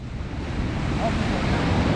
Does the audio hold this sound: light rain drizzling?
no